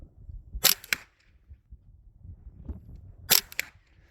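Two sharp rifle shots from a scoped gun using poorly matched ammunition ring out a few seconds apart, each a crisp crack with a quick double snap, over a quiet outdoor background.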